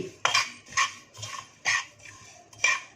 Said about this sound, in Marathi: हे 1 मिनिट हलकंसं परतूया